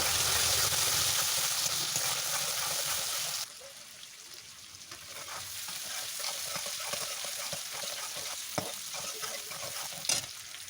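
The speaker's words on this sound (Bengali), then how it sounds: "এখন পেঁয়াজটা লাল লাল করে ভাজা করে নেব।" Steady sizzle of chopped onions frying in oil on a clay stove in a village setting, loud at first then quieter, with occasional scraping and stirring clicks as the onions are moved around the pan.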